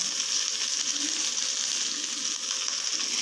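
Mustard seeds and crushed ripe red chillies crackle in hot oil for a dry fish gravy, a steady close-up sizzle with faint low pops, no voices.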